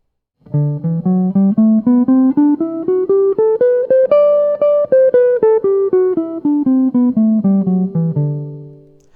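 A single melodic line, likely jazz instruction material, runs up and down the D Mixolydian mode over a dominant 7 context, its clean, evenly spaced notes climbing to a peak and descending back, played alone and up close with no talk.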